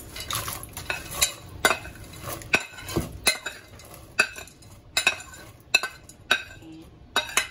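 Pre-boiled white beans tipped into a pan of frying chorizo and stirred, a steady sizzle under repeated sharp scrapes and clinks of a utensil against the pan, close and moderately loud.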